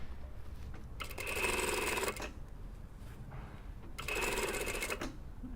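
A sewing machine stitches a jacket lining in two bursts of about a second each, a steady mechanical whir with a clicking hum, separated by a short pause with quiet background noise.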